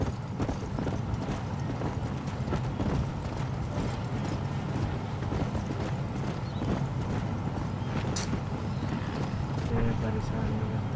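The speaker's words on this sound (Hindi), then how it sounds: "घोड़ा चिल्लाया कैसे है?" Horse hooves clip-clopping steadily in the Red Dead video game, a continuous close trot over a busy game soundscape with a voice talking over it.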